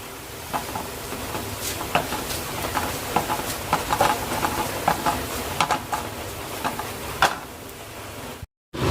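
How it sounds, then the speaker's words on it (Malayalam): Fried fish being stirred into a chili masala made with Kashmiri chili powder in a pan, with steady sizzling and repeated scraping and clinking of a spoon against the pan close up. "അപ്പോൾ നമ്മൾ മീനൊക്കെ ഇട്ട് മീൻ ഇളക്കി"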